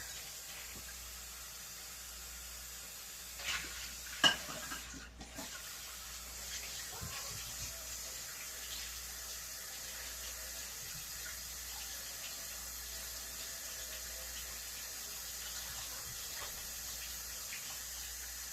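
Water runs steadily from a tap into a pan, a soft continuous hiss, with a few faint clanks near the start.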